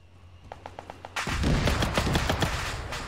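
Gunfire aimed at a tank in the military shooter ArmA 3: a few spaced single shots, then a dense, loud stretch of overlapping rapid bursts that continues to the end.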